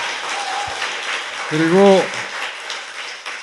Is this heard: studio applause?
yes